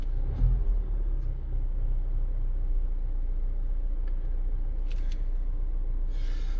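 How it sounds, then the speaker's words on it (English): A Mazda CX-5 engine idles with a steady low rumble and an intermittent cylinder 4 misfire, heard close with faint clicks and no talking. "We got the exact same thing, just kind of an intermittent misfire."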